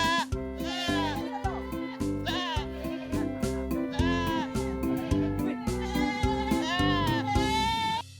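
Boer goats on a goat farm in Calatagan, Batangas, bleat repeatedly in short wavering calls over a steady, rhythmic music bed, with no talking.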